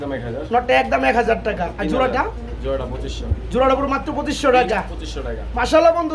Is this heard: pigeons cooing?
yes